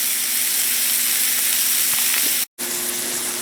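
Beef, mushrooms and onions slow cooking in a covered pot give off a steady, loud sizzling hiss that holds evenly throughout, broken by one brief cut of silence near the end.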